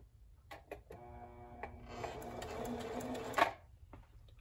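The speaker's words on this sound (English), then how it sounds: "I'm going to do about 4 stitches on straight stitch before I switch to zigzag" A Necchi Q132A sewing machine stitches a button in straight stitch, running in a short whirring burst of a couple of seconds with rapid needle ticks, preceded by a few clicks and ending with a sharp clunk.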